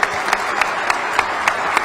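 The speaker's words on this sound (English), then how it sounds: "Round of applause. I always want to clap for that." Clapping at a military awards ceremony following the national anthem, a sparse, regular run of distinct claps at roughly even intervals, fairly close and prominent.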